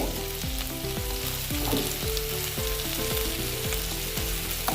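Onions sizzle steadily in hot oil in a pan for a boiled chicken dish, a dense continuous crackle with no voices, broken by soft periodic clinks and scrapes of stirring.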